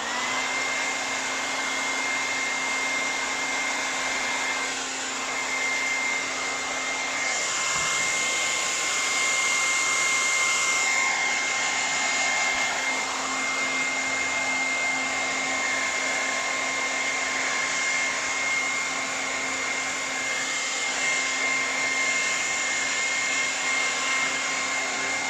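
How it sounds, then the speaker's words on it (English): Hair dryer running continuously for about 25 seconds, a steady close airy whoosh with a constant motor whine, briefly shifting pitch partway through, used while texturing Boba Fett armour, with no talk. "I'm going to use a hairdryer again"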